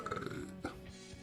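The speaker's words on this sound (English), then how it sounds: "here's that big burp I mentioned coming" One big, deep burp rolls out loud and close, croaking for about a second before trailing off.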